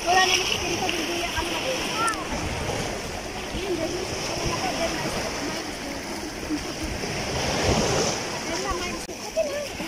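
Ocean waves wash and splash steadily along Qurum beach in Muscat, Oman, a continuous broadband surf with a swell near the end, while people bathing in the water and voices in the background mix in.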